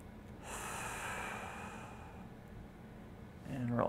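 Deep, slow breathing from a person in hook-lying position holding an isometric internal rotation exercise, a long steady airy exhale close to the mic, followed by a brief sharper breath at the end.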